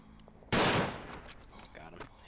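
A single loud rifle shot in the World War I shooter Verdun cracks out sharply and close, then fades into quieter game ambience.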